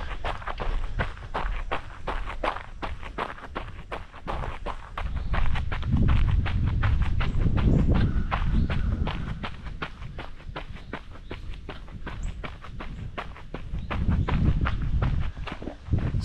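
Close, fast footsteps of a person running while wearing Shokz bone conduction headphones, a quick regular patter of impacts continuing throughout with no talking.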